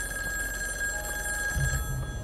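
A phone booth's telephone rings in the horror game In Sound Mind, a loud, steady electronic bell tone that continues through the clip and thins out near the end.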